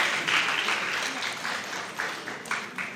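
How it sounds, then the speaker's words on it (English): An audience at the Zongo Manifesto Forum claps for the Zongo Institute for Development, a moderate spread of many hands with some sharper individual claps and faint voices in the mix. "Please, let's clap for them."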